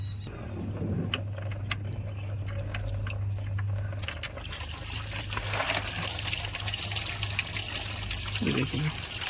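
Coolant trickles and splashes steadily as it drains from a Mahindra Bolero radiator close by, a continuous pouring stream with faint background voices and a low hum.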